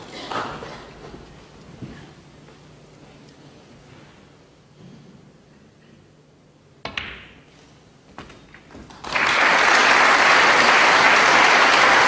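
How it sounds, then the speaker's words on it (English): Snooker crowd at a professional match bursting into loud, sustained applause after a frame ball, following quiet arena ambience and a couple of soft knocks. "Applause for frame ball."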